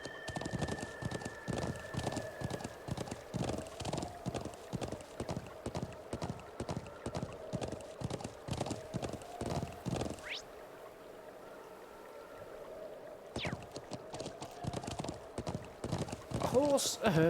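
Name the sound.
horse hooves clip-clopping while riding, from a video game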